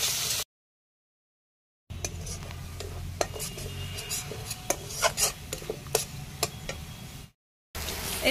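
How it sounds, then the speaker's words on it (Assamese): Onions with ginger and garlic stir-fried in a pan, a soft scraping and rasping of the spatula with occasional sharper ticks, broken by gaps of silence. "এইখিনিও ভালকৈ লৰাই ভাজি ল'ম।"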